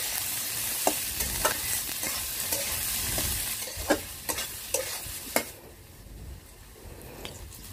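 Potatoes and onions frying in a pan for a beef tripe curry, with a steady sizzle broken by repeated spatula taps and scrapes. The sizzle quiets toward the end.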